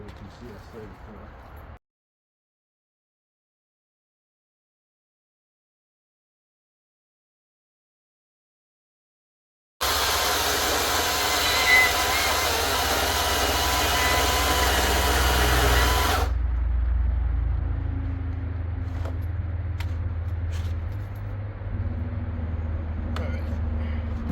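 Greenworks 82CS34 battery chainsaw cutting wood: after a short quiet stretch, a loud, harsh buzzing cut lasts several seconds, then drops to a lower, steadier running hum with scattered knocks.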